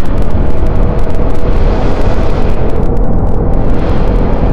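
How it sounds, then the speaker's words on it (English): A KTM Duke 390 motorcycle engine with an RD Powertronic unit revs hard as the throttle opens, producing a loud, dense, continuous roar that sounds close and distorted throughout. "okay let me open the throttle a little bit wow that was fast"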